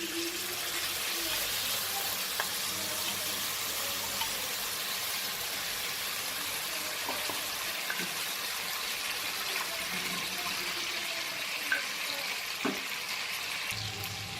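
Ginger, green chili and tomato paste sizzles in a pan over a low gas flame, a soft, steady frying hiss with occasional small clinks, fairly quiet throughout.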